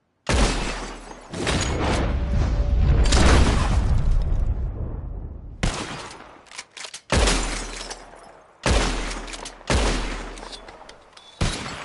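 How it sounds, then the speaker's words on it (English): Revolver shots fire at bottles in Red Dead Redemption 2, loud sharp cracks with shattering glass, first a long dense volley and then several separate bangs spaced a second or two apart. "Whoever shoots more of these bottles wins."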